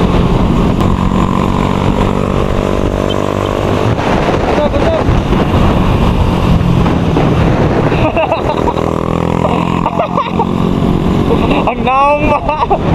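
A motorcycle exhaust pipe roars loudly while riding on an open road, the engine note rising and falling through gear changes, heavy wind buffeting the microphone and a rider talking over it.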